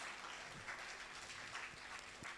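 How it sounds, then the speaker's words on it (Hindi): Festival audience claps steadily in a dense, even patter of many hands, fairly faint and distant, with no voices standing out. "एक बार जोरदार हौसले की तालियां और इस महोत्सव को सफल बनाने की तालियां।"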